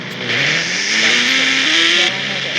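In the Indian Bike Driving 3D video game, a Ghost Rider motorcycle engine revs loudly and close, its pitch climbing steadily through the gears and then dropping back, with no talk.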